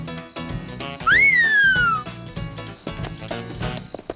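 A sharp rising-then-falling whistle cuts through a French Lucky Luke cartoon scene, one bright sliding tone lasting about a second over busy background music and effects.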